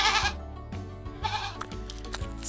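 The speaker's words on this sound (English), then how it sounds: "It's a goat." A goat with curly horns bleats loudly several times in a row, the calls close and clear with short pauses between them and no talking.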